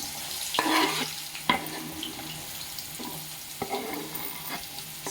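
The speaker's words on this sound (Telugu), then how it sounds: "ముందు ఆయిల్ వేడెక్కిన తర్వాత ఉల్లిపాయలు బాగా డీప్ ఫ్రై చేసుకోవాలండి." Onions sizzle in hot oil for a prawn curry, a steady close crackle broken by sharp clacks and scrapes of a spoon stirring in the pan.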